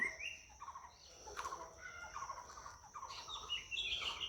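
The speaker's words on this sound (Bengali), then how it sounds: "পাখির কিচিরমিচির শব্দ।" Birds chirp and tweet in open countryside beside wide farm fields along a village path, several calls scattered through the moment with a brighter trill near the end, moderately close over a quiet background.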